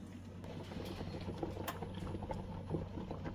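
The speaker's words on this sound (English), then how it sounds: "Notice as that's bubbling, it's got big bubbles." A pot of crawfish gumbo made from a base rather than a traditional roux bubbles on the stove with big bubbles, a steady close simmer of soft pops and burbles, with no talk.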